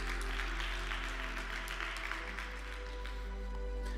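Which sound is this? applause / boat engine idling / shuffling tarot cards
applause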